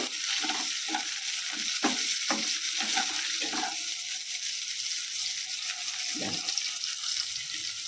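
Coriander stems stirred in a hot pan, frying with a steady sizzle throughout and scattered scraping clicks of the spatula, close and alone without any voices.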